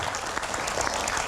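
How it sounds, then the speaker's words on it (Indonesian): Studio audience applause on an Indonesian TV talk show, a dense, steady wash of many clapping hands at close range, holding loud and even without pause. "Tepuk tangan sekali lagi dong"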